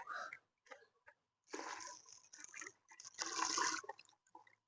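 Water poured into a bucket holding an automatic submersible pump for dirty water with a built-in float, in bursts of splashing and trickling that grow louder toward the end, separated by short pauses.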